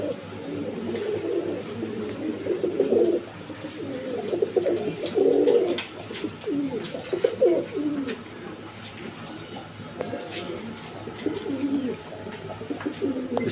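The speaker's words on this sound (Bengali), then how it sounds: "প্রথমে এক পেয়ার আপনার চুয়াচন্দন কবুতর দিয়ে শুরু করতেছি" A pair of Chuya Chandan pigeons coo nearby in repeated soft, throaty rolling calls that rise and fall in bursts, with faint background noise and no clear talk.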